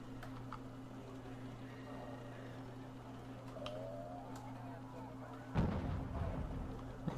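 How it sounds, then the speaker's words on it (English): Mortars firing during a video game tournament match: a heavy, low boom breaks out near the end over a steady, quiet hum of distant battle noise. "Oh, mortars are firing."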